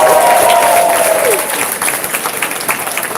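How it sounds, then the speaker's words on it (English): Audience applause for Ben Carson at the YBLS 2018 event, a loud dense clapping crowd close by, steady then slightly thinning, with a voice briefly heard over it. "Give Ben Carson another round of applause."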